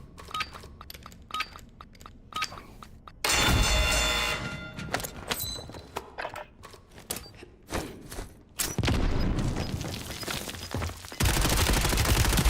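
Gunfire in the Warzone shooter game comes as rapid, repeated bursts of close shots. Loud stretches of dense firing and explosions break in between, with thuds and clinks mixed through.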